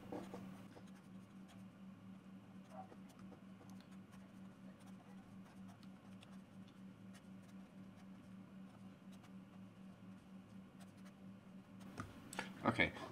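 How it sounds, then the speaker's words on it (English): A pen scratches across paper while graphs are drawn by hand for a physics forces worksheet, faint steady strokes over a low hum, ending in a few louder taps and rustles near the end. "Let me draw these real quick."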